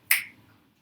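A single sharp finger snap, close and crisp, with a brief decay and no other sound around it.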